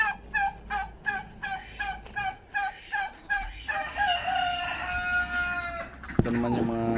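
Male turkeys gobble in a rapid rhythmic series of warbling calls, followed by overlapping longer calls and a rooster-like crow, fairly close in a backyard poultry setting.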